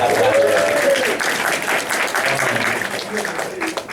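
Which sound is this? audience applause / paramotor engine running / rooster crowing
audience applause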